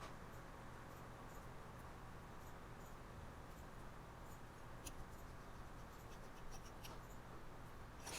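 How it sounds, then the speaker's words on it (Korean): Faint, quiet scratching of a cheap Daiso fountain pen nib moving across paper, soft and close, with a few light ticks and no voices. "그러면 한번 써보도록 할게요"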